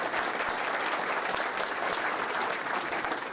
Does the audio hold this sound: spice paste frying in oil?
no